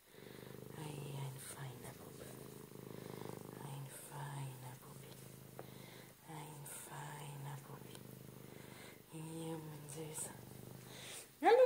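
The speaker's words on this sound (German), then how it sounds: "Erzähl mal, wie du schnurrst." A male cat purring in a low steady rumble close by, mostly under continuous soft, fond talk from a person nearby.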